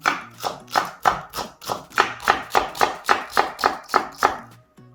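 A knife chops green onions into small pieces on a cutting board in a quick, steady rhythm of about fourteen crisp, close chops, with no one talking.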